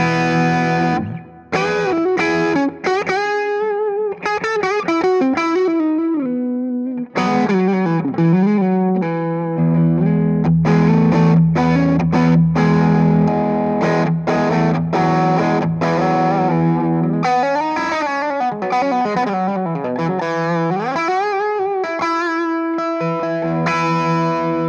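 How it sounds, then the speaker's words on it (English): An electric guitar overdriven by a Tube Screamer pedal through a Fractal Audio VP4 plays a melodic line with sustained, bending notes and some chords, its tone gritty and compressed, with no voices. "this is the tube screamer."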